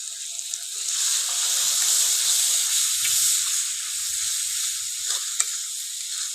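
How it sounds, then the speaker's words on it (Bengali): Tomato pieces and spice paste frying in an oil-slicked pan, a steady close sizzle and hiss with soft stirring scrapes throughout, no voices. "টমেটোটা যতক্ষণ সেদ্ধ না হবে ততক্ষণ আমি এটা ভাজতে থাকবো"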